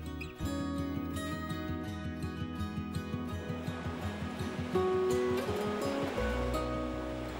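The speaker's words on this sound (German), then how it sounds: "Im Wasser die Buhnen brechen die Brandung" Baltic Sea surf breaking against wooden groynes off the beach at Kühlungsborn, a steady wash of waves with a continuous layered roar and no voices.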